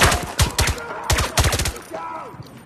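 Pistol fire in the VR shooter Zero Caliber 2, in two quick clusters of close, punchy shots, each with a short echo, followed by a softer voice-like sound as the firing stops.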